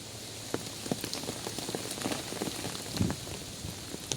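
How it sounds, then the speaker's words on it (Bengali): Heavy, continuous rain from Cyclone Remal falls over a flooded area, a soft steady patter with scattered sharper drop hits, heard alone without voices. "দুদিন ধরে একে অনবরত বৃষ্টি হয়ে যাচ্ছে"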